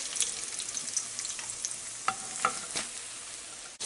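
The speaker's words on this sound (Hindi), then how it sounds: "जब तक हमारी चिकन फ्राई हो रही है" Chicken tenders frying in hot oil, a steady close hiss and sizzle with a few soft clinks of stirring, no voices.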